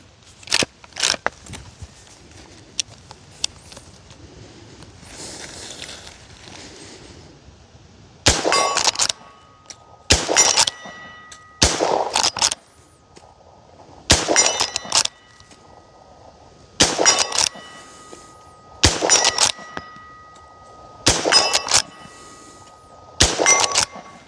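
A Winchester 1892 rifle chambered in 45 Colt is fired rapidly at a blue steel target 50 yards away. Roughly ten loud cracks come at a steady pace, most followed by a ringing clang of steel, and a few quieter clicks come earlier.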